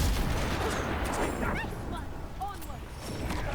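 Gunfire rings out in the video game Avowed as guns shoot an enemy, repeated shots with bright metallic zings over a dense, rumbling bed of game combat noise, with a voice talking over it.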